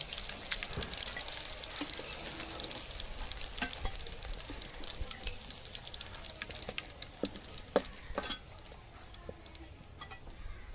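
Steady oil sizzle of chital fish dumplings frying, with scattered crackles and a few sharp spatters popping through, close by and continuous with no talking.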